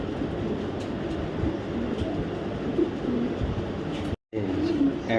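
Racing pigeons, including a silver-red light-coloured male, coo in a loft amid a dense, steady bed of fluttering and murmuring that drops out for a moment near the end.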